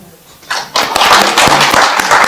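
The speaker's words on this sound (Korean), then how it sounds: "임시 단장을 맡아주신 명주선 교수님 박수를" An audience begins clapping at a task-force launch ceremony, a burst of applause rising after a quiet start and filling the rest of the moment, with a voice briefly audible beneath it.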